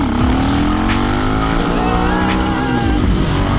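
A supermoto motorcycle engine revs hard and loud through a wheelie, a sustained high-pitched roar with shifting pitch, very close and continuous.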